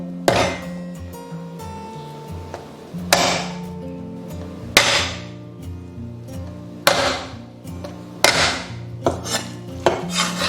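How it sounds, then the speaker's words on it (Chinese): Sliced beef is pounded on a board with the back of a knife, making about seven sharp, uneven thuds with brief clinks over a steady tonal background. "牛肉切好过后，我们最好是用刀背稍微给它拍松散一点"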